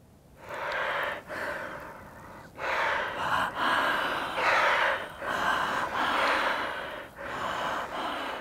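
An accordion's bellows and reeds imitate breathing as a series of airy, rising and falling swells, each lasting about one second, played alone and close.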